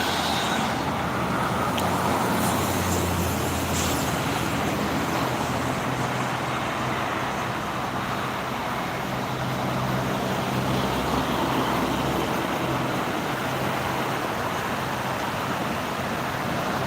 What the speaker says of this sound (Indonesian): Masih banyak mobil besar, mobil truk.